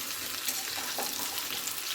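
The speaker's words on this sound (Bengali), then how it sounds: "সেইভাবে হালকা ভেজে নেবেন, বেশি ভাজবেন না।" Hilsa fish fries lightly in oil with a soft, steady sizzle and faint crackling spits, heard close and alone without speech.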